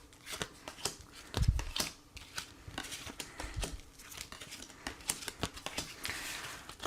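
Tarot cards are shuffled by hand before a reading, a quiet close-up sequence of rapid riffling flicks and soft slaps in irregular bursts, with no talking.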